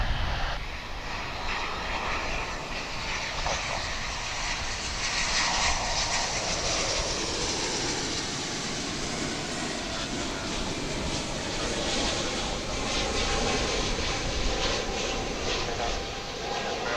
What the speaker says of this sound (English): Gotta say that one sounded a little louder than some of the planes we've been seeing recently.